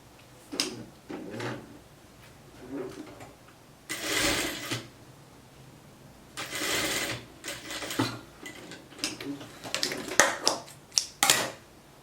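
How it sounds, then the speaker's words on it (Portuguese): A sewing machine runs a short seam on a blouse in several quick bursts of stitching separated by pauses, with small handling clicks and shuffles in between, close and clear. "Aí você vai pegar e fazer uma pequena costura, bem pouquinho."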